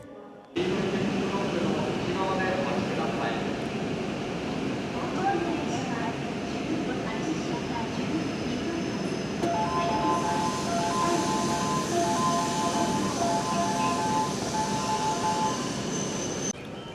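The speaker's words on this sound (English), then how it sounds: "I'll probably film Shinkansen coming so y'all can get a little Shinkansen action." A Shinkansen high-speed train runs steadily and loudly throughout, a sustained rumble with high whine and tonal hum, without breaks; a faint voice may be underneath.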